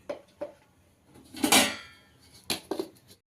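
Soy sauce and ginger-garlic paste stirred with a spoon in a bowl for a burger mix: a few close clinks and scrapes of metal on dish, with one longer scraping rattle in the middle and no talk.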